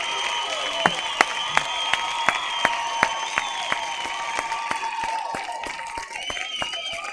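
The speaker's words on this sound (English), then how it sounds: "Round of applause." Sparse clapping from a small audience, a regular run of distinct claps over a sustained tonal hum, fairly close and moderately loud with no voices.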